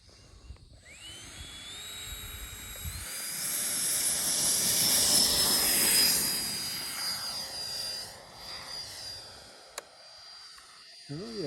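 A Freewing F-104 RC jet with a 90mm ducted fan takes off from a grass strip, its high whine rising in pitch as it spools up and roars past, then fades into the distance while people talk quietly nearby.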